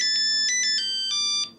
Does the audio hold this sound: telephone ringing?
yes